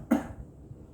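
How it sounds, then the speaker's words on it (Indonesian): One short, throaty clearing of the throat, close and fairly loud, followed by a faint quiet room. "Yang kedua berdehem 3 kali."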